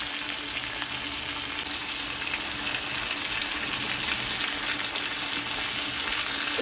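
Ginger and green chili with Kashmiri red chili powder frying in hot oil in a pan for veg biryani, a constant, dense sizzle that holds steady throughout with no voice.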